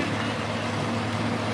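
A 1968 Pontiac Firebird with a 400 cubic inch engine and a 2000 Corvette with an LS1 idle together at a stock class drag race, a steady low rumble held evenly throughout.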